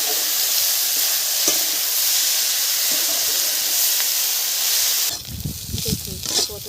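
Potatoes with garlic leaves fry in a pan with a loud, steady sizzle and hiss, close up, before quieter stirring and scraping clatter takes over near the end.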